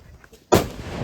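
A vaanam firecracker rocket, set off for the Vishu festival, bursts in one sharp, loud bang close by after a quiet moment, then a rumbling tail slowly fades.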